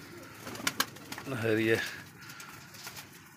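Pigeons in a pigeon house give a brief low cooing phrase mid-clip, with soft rustling and clicks around it and a single spoken word from a person nearby.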